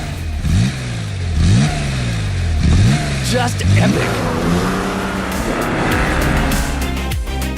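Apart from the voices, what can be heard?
Porsche Carrera RS 2.7 engine revving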